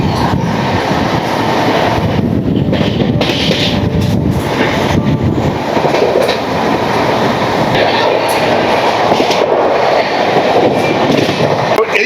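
A passenger train runs on rails with a pantry car on board, giving a steady, loud rumbling roar with rattling and wind buffeting throughout, heard from inside or beside the moving carriage.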